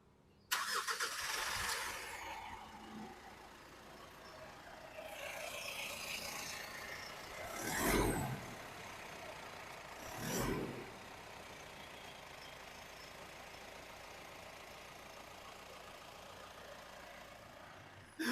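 Mitsubishi Pajero Sport Dakar 2400cc turbo diesel engine, heard with the hood open, idling and then revving twice in short, rising bursts before settling back to a low steady idle, fairly close.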